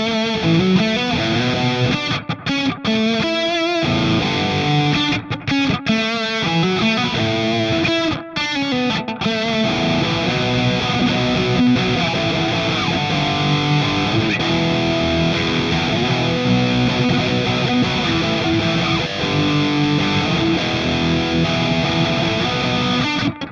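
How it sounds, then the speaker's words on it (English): Heavily distorted high-gain electric guitar playing chugging riffs and sustained chords, loud and continuous with brief palm-muted stops. "The high gain tones."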